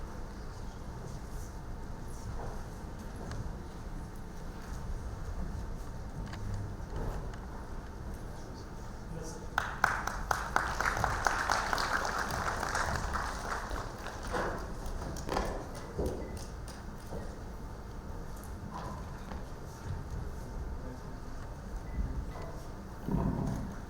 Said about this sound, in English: claps and cheers can be louder, ladies and gentlemen.